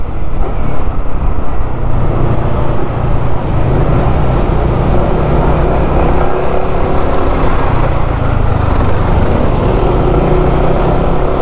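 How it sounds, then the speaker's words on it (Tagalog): Dense road traffic rumbles steadily and loudly, with cars, buses and trucks passing close by in an unbroken wash of engine and tyre noise. "Uy, traffic dito, paano nangyari yun?"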